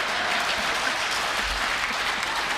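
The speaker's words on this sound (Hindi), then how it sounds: "आगे वाले भी ताली बजा रहे सारे लोग" Dense, steady audience applause fills the hall at a Hindi comic poetry gathering, a continuous loud wash of many hands clapping without a break.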